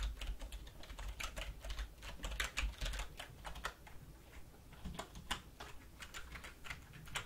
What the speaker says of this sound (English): Let me just type in these last little notes.